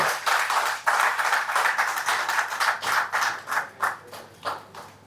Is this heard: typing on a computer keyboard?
no